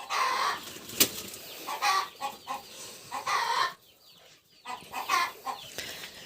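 A nesting duck with newly hatched ducklings and eggs still in the nest makes agitated, clucking calls up close, with brief wing flaps, in bursts broken by a short quiet pause.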